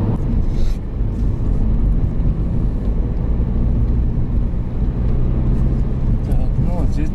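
A car driving along a rough, potholed road near Chernomorsk, a loud continuous low rumble of engine and tyres heard from inside, steady with slight bumps throughout.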